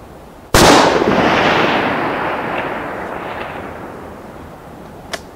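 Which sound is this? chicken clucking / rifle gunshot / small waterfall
rifle gunshot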